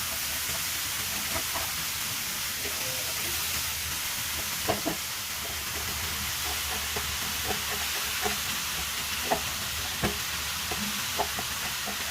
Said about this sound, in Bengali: আমি লাউ দেওয়ার পরে হচ্ছে ভালো করে নেড়ে নিচ্ছি